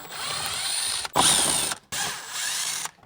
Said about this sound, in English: We'll pop out all these screws.